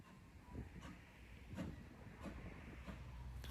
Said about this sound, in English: This train is hauled by a Great Western Railway tank engine, number 4277, now called Hercules.